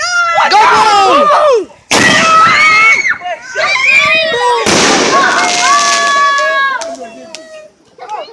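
Fireworks burst loudly and close by with sharp booms and crackles, mixed with whistling rockets, while children shout and scream excitedly over the blasts throughout.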